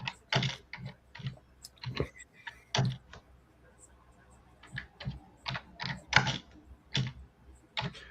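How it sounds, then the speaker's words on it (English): Keys on a computer keyboard tap in quick irregular bursts as a prompt is typed, close and clear against a quiet room, with a short pause midway. "So I'm just going to type in a prompt."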